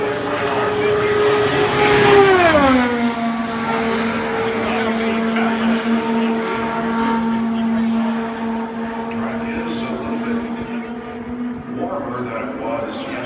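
A 2018 IndyCar race car screams past on Graham Rahal's Indianapolis 500 qualifying lap, its high engine whine dropping sharply in pitch as it passes and holding a steady drone, then rising again near the end, with commentary talking over it.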